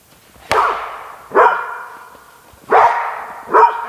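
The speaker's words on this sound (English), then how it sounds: "Hey, no barking." Monty and another dog bark outdoors on a hike: four loud, close barks in two pairs, spaced about a second apart, with no talking.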